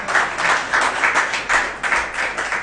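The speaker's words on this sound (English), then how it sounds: "Yeah, you can clap for them." Audience clapping at a minister's live press briefing, a steady moderate patter of hands with slight pulsing swells throughout, no talk over it.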